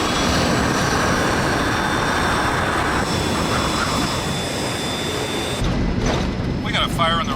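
A United Airlines Flight 811 airliner in flight with one engine on fire and shut down, its steady loud broadband cabin roar and engine drone filling the whole stretch, with a brief shift in tone near the end.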